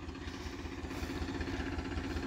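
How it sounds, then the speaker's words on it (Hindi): Powertrac 42 tractor loaded with bricks from the Tawa river, straining up a steep track on worn-out tyres: a steady, loud, rhythmically throbbing diesel engine drone, close by and continuous with no voices. "आज हमारे यहाँ तावा नदी से यहाँ ईंटा से भरी ट्रैक्टर जा रही थी तो ये चढ़ नहीं पा रही"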